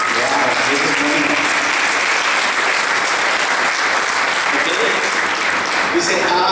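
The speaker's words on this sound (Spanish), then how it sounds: "¿Por qué no le das un aplauso al Señor?" A church congregation breaks into loud, sustained applause during a Spanish-language sermon, dense clapping filling the whole stretch at close range with crowd noise mixed in.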